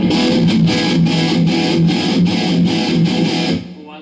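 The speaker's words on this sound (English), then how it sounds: "let's turn this up even more, the gain up more, and let's scoop these mids way out." An electric guitar played through a JH-3 overdrive distortion pedal at high gain with scooped mids, chugging in rapid pulsed palm-muted bursts, loud and saturated, before ringing off at the end.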